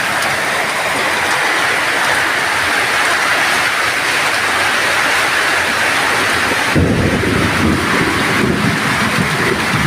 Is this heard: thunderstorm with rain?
yes